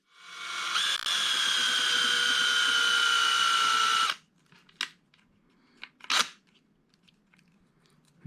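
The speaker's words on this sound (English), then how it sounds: "So now we'll get the post drilled out." Small handheld drill boring out the rivet post of a Hot Wheels Land Cruiser FJ80 die-cast, a steady high whine for about four seconds that stops abruptly, followed by a few brief clicks and scrapes, close up.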